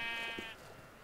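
A single short, wavering Minecraft sheep bleat, fairly quiet, with faint background hum.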